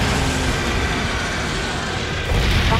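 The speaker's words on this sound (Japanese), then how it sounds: "爆発音も心なしか派手に聞こえるぜ。" Raging Brachydios unleashing explosions in Monster Hunter World: Iceborne, a dense continuous rumble of blasts with a heavier burst near the end, loud and sustained.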